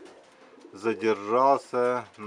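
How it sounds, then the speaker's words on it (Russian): A racing pigeon coos close by, giving a short series of soft, throaty, rising and falling calls, with a little speech around it. "Воркует даже."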